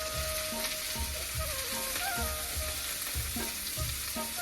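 Cabbage frying in mustard oil with whole cumin, a dense continuous sizzle with rhythmic scraping and stirring strokes of a spatula against the pan, close and steady throughout.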